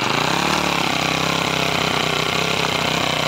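Small two-stroke grass cutter engine running at a steady loud idle right next to the listener, a continuous buzzing drone with no one talking.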